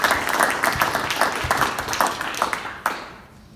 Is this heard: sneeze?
no